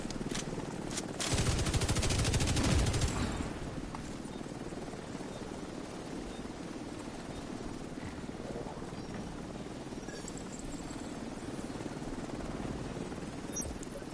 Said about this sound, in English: Extraction done. Helo is returning to base.